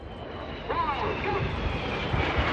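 Red Arrows display jets roar overhead at an air show at Bournemouth, a loud steady engine rumble with a rising whine, heard under a public-address commentator's voice.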